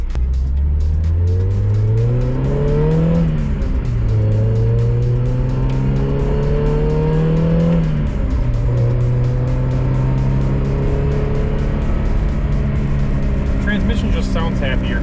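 A Mazda Miata engine hums loudly from inside in traffic after a transmission flush, rising and shifting through gears as it drives, with a steady low rumble throughout.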